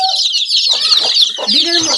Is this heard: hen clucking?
yes